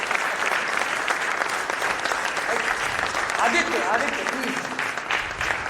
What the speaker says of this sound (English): give a big round of applause to all the speakers and network